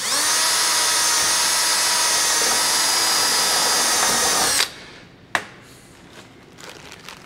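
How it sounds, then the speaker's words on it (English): A power drill whines at high speed for several seconds while pre-drilling a hole for a post flashing screw, then cuts out abruptly, followed by a sharp click and faint handling noises. "Gentle pre-drill again."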